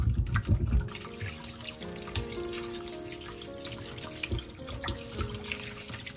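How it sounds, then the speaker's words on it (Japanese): Onion being washed under a running kitchen tap, a continuous splash of water over a surface with light clatter and a brief stronger gush at the start. "玉ねぎも最初の皮だけね、取ってしまって、あとはよく洗って使っていきます。"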